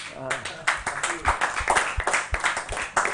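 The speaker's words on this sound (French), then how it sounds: "On peut encore une fois l'applaudir" A French event audience claps and applauds for a guest at a charity gaming marathon, a brief burst of clapping mixed with a voice speaking over it.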